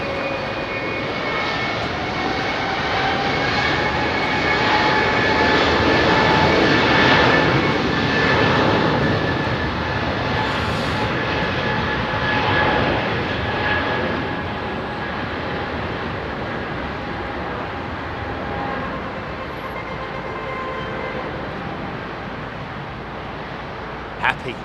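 An Airbus A320neo jet roars at Heathrow Airport, its engine noise swelling to a loud peak and then slowly fading as it moves off, with engine whine tones running through and a voice speaking at times.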